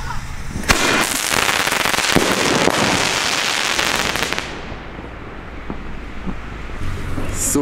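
A Pech und Schwefel New Year's Eve firework fires a loud salute followed by dense crackling stars, a sustained roar of pops for several seconds outdoors with wind, then fading to sparse distant bangs.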